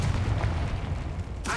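A Confringo fire spell blasts in Hogwarts Legacy, a deep, heavy rumble rolling on for over a second, with a fresh crackling burst breaking in near the end.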